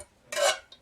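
A brief metallic scrape of a utensil stirring melted Christmas-scented wax in a metal pot, one short clink and swish followed by a faint tap.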